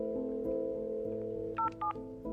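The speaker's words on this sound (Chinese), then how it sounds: "给孟平打个电话，问一问那边什么情况。" A telephone is dialed close by: a quick run of electronic keypad tones steps through different pitches, then two short, sharper beeps stand out near the end.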